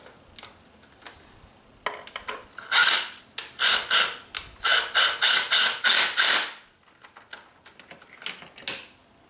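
A ratchet tightens the valve cover screws on a 2002 PT Cruiser, giving a run of loud, close, rapid clicking bursts in an even rhythm, with scattered lighter clicks before and after and no talk.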